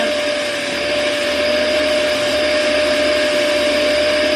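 Dirt Devil spot cleaner running on carpet, a loud steady motor whine with constant airflow hiss, close and continuous with no talk.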